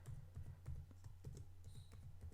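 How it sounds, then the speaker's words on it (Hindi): Someone types a password on a computer keyboard in a quiet room, with a steady patter of light key clicks and no voices. "कीबोर्ड से हमने इंसर्ट कर देना जो भी हमारा पासवर्ड है"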